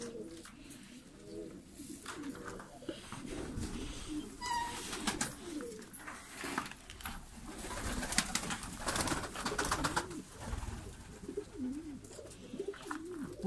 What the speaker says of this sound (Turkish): Çok değişik kuşlar var, güvercinler var.